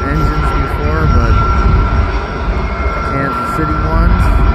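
Kansas City Southern freight locomotives rumble past on a line running parallel to a highway east of Kamloops, British Columbia, giving a steady, loud engine drone with a sustained horn-like tone throughout.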